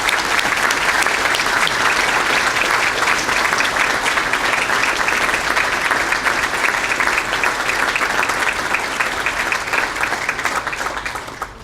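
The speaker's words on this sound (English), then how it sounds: "Let's give her a round of applause" A loud, continuous round of applause for a civilian employee receiving an honourable mention at a police department awards ceremony, dense and unbroken for over ten seconds before easing slightly.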